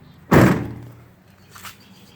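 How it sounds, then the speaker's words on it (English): A rear door on a 2017 Ford Transit 350 diesel van slams shut with one heavy thunk, followed by a fainter latch click a second later. "Close the doors."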